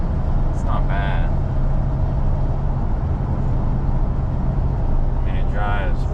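A neglected 1999–2006 Chevy 1500 pickup truck, fresh off a full suspension rebuild with a string-and-eyeball alignment, driving along: a steady, loud low road and engine rumble inside the cab, with a couple of brief bursts of talk.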